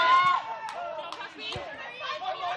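Crowd noise at a wrestling event, with overlapping chatter and shouts mixed under close speaking voices.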